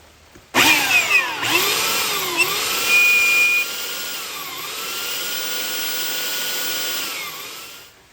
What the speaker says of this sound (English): sand off just enough epoxy to be able to get this wrap off